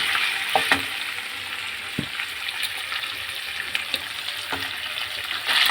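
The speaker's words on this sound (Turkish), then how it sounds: "Suyunu çekti ve yağla kavruluyor soğan." Onions sizzle and crackle steadily as they fry in oil in a hot pan, with occasional soft stirring clinks and pops.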